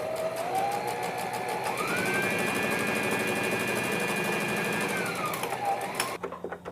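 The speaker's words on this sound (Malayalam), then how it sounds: "ഇനി ഇതിൻ്റെ മേലെ സ്റ്റിച്ച് ചെയ്ത് പിടിപ്പിക്കുക" Sewing machine stitching fabric for a baby frock, one continuous loud run of fast stitching whose pitch rises and then holds steady before the machine stops near the end.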